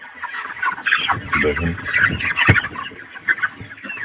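Chickens clucking and calling at a poultry farm where many birds were killed overnight, a busy flock heard close by with a short sharp knock midway and a person talking over them.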